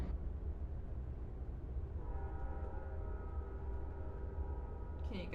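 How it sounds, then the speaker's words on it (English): A train rumbles steadily through a livestream setting, with sustained horn-like tones rising from about two seconds in over a constant low rumble, ending with a few sharp clanks. "Can you guys hear the train?"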